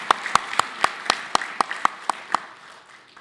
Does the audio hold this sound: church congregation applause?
yes